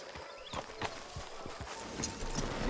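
A horse's hooves in Red Dead Redemption 2 clop unevenly on hard ground, a handful of soft, close strikes at a slow walking pace.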